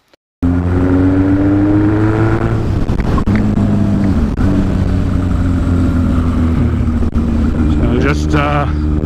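A Yamaha XS1100 motorcycle fitted with a big bore kit and performance head fires up abruptly and holds a loud, steady high-idle rev for break-in, with a sharp blip of throttle near the end.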